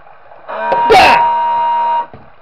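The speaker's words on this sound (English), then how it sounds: "Lori 4 just blows his horn at me" A loud, steady vehicle horn in a video game blares for about a second and a half, starting abruptly and cutting off cleanly, with a brief crash of noise near its start.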